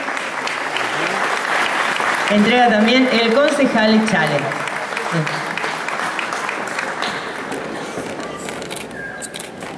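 Sustained audience applause at an award ceremony, a steady wash of clapping from a crowd while someone speaks over it on a microphone.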